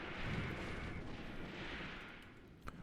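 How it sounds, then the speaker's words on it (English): Heavy machine gun fire in the WW2 strategy game Graviteam Tactics, a faint, distant rolling rattle of bursts blending into a low rumble, with one sharper crack near the end. "You can see our machine gun fire firing in the back"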